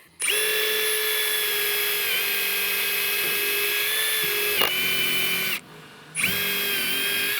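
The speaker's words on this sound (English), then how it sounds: "So I'm just gonna go ahead and pre-drill a couple holes." A power drill whines steadily at high speed, pausing briefly near the end before spinning up again, close and loud with no talking.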